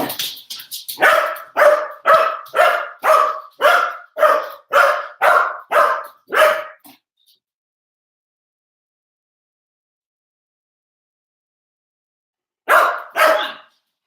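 A dog barks in a quick run of about ten loud, close barks, then falls silent for several seconds before two more barks near the end, with no talk over it.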